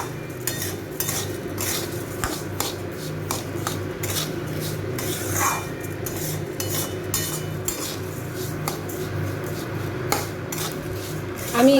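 A spoon stirs food colouring into mutton kosha in a pan, giving repeated metal scrapes and clinks in an uneven rhythm. A faint sizzle runs underneath, and no voices are heard.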